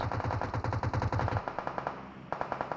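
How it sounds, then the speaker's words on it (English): Rapid automatic gunfire bursts from a PUBG Mobile match, a fast rhythmic volley of shots for over a second, then sparser scattered shots trailing off, loud and up close. "Quite the barrage of shots now just flying all over the place."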